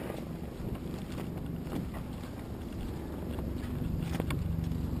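Gusty wind buffeting a sailboat racing in a regatta off Manhattan, a steady rushing noise with faint knocks and rattles, no talk.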